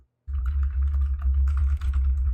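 Rapid clatter of computer keys pressed during The Stanley Parable: Ultra Deluxe, close and steady over a low, loud background hum, starting after a brief silence.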